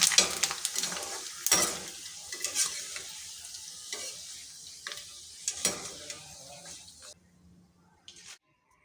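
Homemade potato papads frying in hot oil, a steady crackling sizzle with bursts of stirring and scraping in the pan, fading toward the end.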